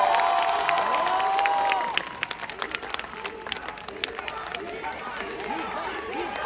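Applause and cheering from a live concert crowd at a music show, loud and dense, with shouts and whoops over sustained clapping; an early tonal cheer gives way to scattered voices and continued clapping.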